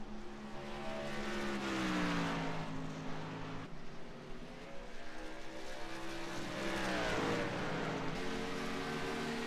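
A race car in the iRacing video game lapping the high line through turns 3 and 4 at Talladega, engine held at a steady high drone with pitch sweeps as it rises and falls, fairly loud and continuous.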